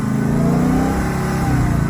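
A 2019 Dodge Hellcat's supercharged V8 revs loud and close, a steady droning engine roar with a high supercharger whine layered on top, holding constant for the whole stretch.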